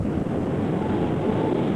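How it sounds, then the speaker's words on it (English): Gusting storm wind at a thunderstorm's gust front roars as a dense, steady rush of low broadband noise, loud and continuous throughout without any speech. "the outrush of wind called the gust front at the leading edge of the storm"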